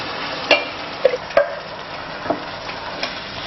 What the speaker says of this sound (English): 1 tin of coconut milk going in